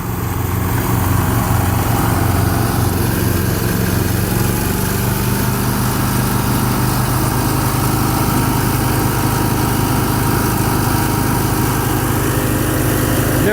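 A John Deere 210 garden tractor engine runs steadily after a cold start, a loud, close, even mechanical drone that holds without misfires or backfires.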